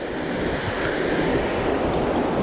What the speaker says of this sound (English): the turbulent water that's here coming off the dam